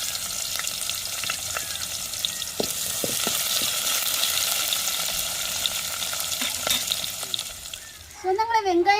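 Chopped onions, green chillies and curry leaves fry in hot oil for a crab gravy, a continuous bright sizzle with a few stirring knocks, before a voice briefly speaks at the very end.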